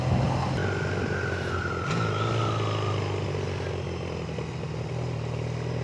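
Motorcycle exhaust picked up faintly through a helmet-mounted action camera while riding, a steady engine drone with a brief rising rev, no talking.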